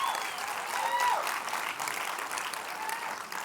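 An audience applauds at a live talk, steady, full clapping from a large room that holds at an even level throughout, with a faint tonal sound briefly audible near the start.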